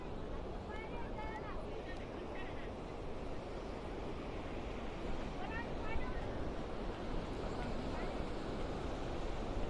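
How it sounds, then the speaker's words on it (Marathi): Sea waves wash onto the shore near a garden park at Devgad, a steady broad roar with wind buffeting the microphone throughout, while a person talks over it. "समुद्राचे संपूर्ण लाटा बघा की कसे."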